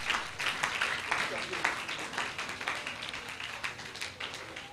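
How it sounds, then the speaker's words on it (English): Students applaud the chairman at a book launch event, a dense, steady wash of clapping from a crowd that carries on for several seconds while a voice is heard over it. "students, put a hand of applause for the chairman"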